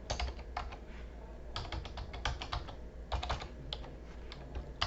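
Quiet, close keystrokes on a computer keyboard come as uneven bursts of clicky taps with short pauses while a username is typed.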